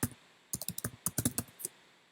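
Rapid keystrokes on a computer keyboard, about a dozen sharp clicks in quick bursts with a short pause near the start, close and fairly loud with no voices.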